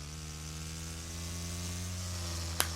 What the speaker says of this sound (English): Oh, listen to that quiet. Just the purr of my Firefly.